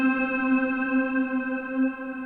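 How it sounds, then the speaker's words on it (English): A sustained, steady synth-like tone sounds through the Polyend MESS multi effects pedal with reverb applied, the note holding evenly with a soft wavering shimmer and no talking. "now let's add some reverb"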